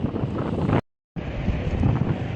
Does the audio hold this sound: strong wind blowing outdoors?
yes